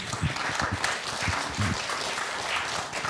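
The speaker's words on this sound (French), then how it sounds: "merci à tous, on peut vous applaudir" Audience applause at a French heritage event, a steady wash of many hands clapping, moderately distant and even throughout, with little talk over it.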